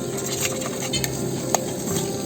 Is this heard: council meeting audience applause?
no